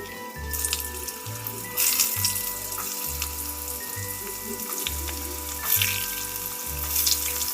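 Cubed potatoes and papaya frying in oil with bay leaf, dried chilli and panch phoron for a mixed vegetable dish: a continuous bright hiss and crackle over a steady, rhythmic low thumping backdrop.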